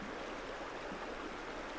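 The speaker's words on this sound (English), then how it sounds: "I remember the sound of the river" Steady river water rushing past without pause, a dense even wash of flowing current heard up close and alone.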